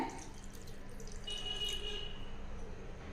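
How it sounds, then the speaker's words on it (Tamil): Half a tumbler of water poured into soaking corn rava batter in a home kitchen for a Tamil paniyaram and uttapam recipe, a soft steady trickle and drip over a low background hum. "ஒரு அரை டம்ளர் தண்ணி சேர்த்திக்கலாங்க"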